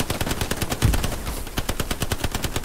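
Sustained machine gun fire rattles in rapid, evenly spaced bursts in the World War II shooter Hell Let Loose, loud and close, with a heavier thump partway through and no talking.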